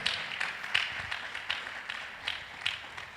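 A church congregation applauding, steady rhythmic clapping with regular accents at moderate loudness, sounding a little distant and roomy.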